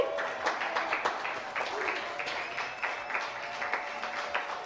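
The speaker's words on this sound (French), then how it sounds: "on l'applaudit très fort" A live audience claps steadily throughout, a dense patter of many hands at moderate distance with no break, and a faint murmur of voices underneath.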